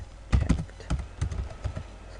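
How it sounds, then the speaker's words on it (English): Fast typing of a command on a computer keyboard, close-up clicky keystrokes in quick irregular bursts with no talking. "So, you need to type in cd desktop"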